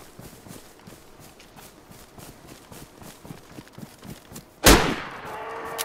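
A single loud 7.62 rifle shot in the DayZ survival game cracks out near the end, after a stretch of soft rhythmic footsteps, and leaves a long ringing tail.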